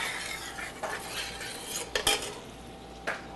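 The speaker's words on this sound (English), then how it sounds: "Little stir here." Spoon scraping and clinking against a pot while stirring canned tomato sauce on low heat, with a few distinct taps over a soft continuous background.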